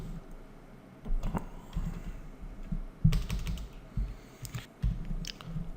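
Close computer keyboard typing while coding a web page, bursts of quick key clicks in irregular clusters with short pauses between them.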